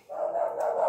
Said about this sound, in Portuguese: Mas Kiara adora latir